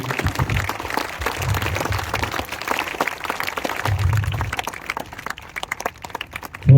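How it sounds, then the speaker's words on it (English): A crowd applauds steadily for several seconds, dense clapping filling the room before gradually thinning out toward the end. "So big round of applause for"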